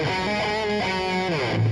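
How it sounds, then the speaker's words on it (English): A short electric guitar phrase in Rocksmith+ with an echo effect, loud distorted notes that slide and repeat as the delay trails behind them. "That has a cool echo to it."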